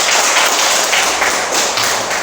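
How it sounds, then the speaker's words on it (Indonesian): Children in a classroom give a brief, dense round of clapping applause for Delvin, steady and fairly loud throughout with no voices. "Tepuk tangan untuk Delvin."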